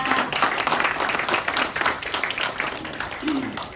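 An audience at a fundraising evening for a cartoon evangelism ministry applauds in a lively, fairly loud burst of many hands that swells and dips slightly, with a faint voice near the end.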